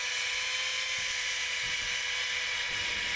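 A continuous high-pitched electric sander whines steadily at close range, cutting a wire channel, with faint low knocks beneath it.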